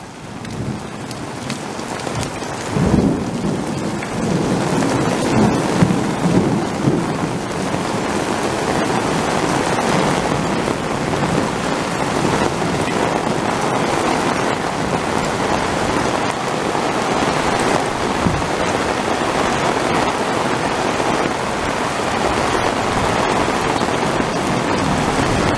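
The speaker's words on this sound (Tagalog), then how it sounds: "Malakas naman ang ulan" A steady roar of heavy rain drums on surfaces without pause, dense and loud, with a low rumble in the background.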